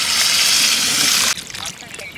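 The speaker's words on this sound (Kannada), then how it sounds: "ಚಿಕನ್ ಬೇಯೋ ಥರ ನೀರು ಹಾಕೋಣ" Water poured into a pot of country chicken curry being cooked outdoors in a forest: a steady, close splashing pour for over a second, then stopping abruptly, leaving quieter scattered liquid sounds.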